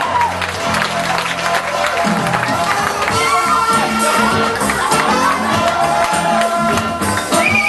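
A crowd at a comedy stage hypnotist show applauds and cheers loudly as former heavyweight boxing champion Mike Tyson is welcomed, with whoops and shouts over continuous clapping and background music.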